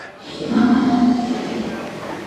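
A Gir breed cow lets out a long, low moo up close, over a murmur of background noise.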